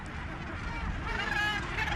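Seabird chicks shedding their down in a dense colony on Malgas Island call in a continuous, overlapping chorus that is fairly faint and unbroken, with no talking.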